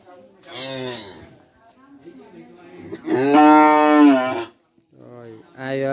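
Cattle at a cow sale in Trà Ôn, Vĩnh Long, Vietnam, give loud nearby moos: a short low call, then a long drawn-out bellow, and a third moo starting at the end.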